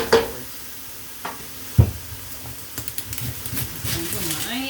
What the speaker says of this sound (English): And we're just going to saute this up.